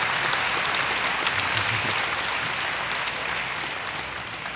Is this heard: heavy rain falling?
no